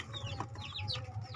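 Chickens clucking nearby in a poultry-rearing setting, short soft chirps and clucks repeating over a low steady background hum.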